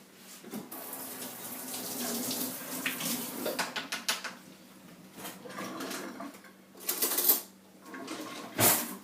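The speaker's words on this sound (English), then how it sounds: "I'm going to rinse this off." A kitchen tap runs while a measuring spoon is rinsed under it. The water gurgles and splashes unevenly at close range, with brief clinks of the spoon and surges of the stream.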